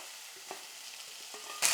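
Onions and carrots stirred and sautéed in a pan: a faint, soft sizzle with a few light scrapes, then a louder burst of frying hiss right at the end.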